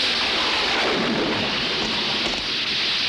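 Steady heavy rain pours and hisses on surfaces with a low rumble of thunder beneath, dense and constant throughout.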